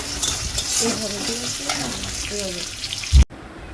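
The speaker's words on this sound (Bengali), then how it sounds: "এখন ভালোভাবে ভেজে নেব" Chopped onion and green chili fry in oil in a pan for prawn curry, a close, bright sizzle with stirring scrapes and a sharp knock near the end, under faint background voices.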